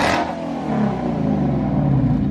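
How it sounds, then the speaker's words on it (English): A 1000hp 2018 Ford Mustang GT with a Corsa exhaust revs hard with a deep, throaty exhaust roar, loud and close, holding a rumbling tone for a couple of seconds. "what exhaust is that, Chris?"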